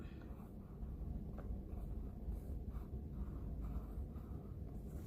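A pen scratching out Malayalam vowel letters on paper, a soft continuous scraping with faint stroke accents over a low background hum, close and quiet, no voice.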